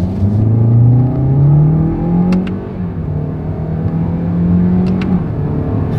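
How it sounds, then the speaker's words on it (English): A 2024 Toyota Corolla Hatchback accelerates hard with its paddle shifters, the engine note rising steadily in pitch, dipping briefly at about two-thirds of the way through as the gears change, then climbing again. The sound is loud and close, with no talking. "let's see how quickly we can get this one here up to speed"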